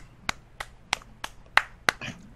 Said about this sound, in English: I hear an applause